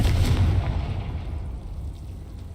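A Confringo fire spell explodes in Hogwarts Legacy, a single loud booming blast with a heavy low rumble that decays over a couple of seconds, alone without voices.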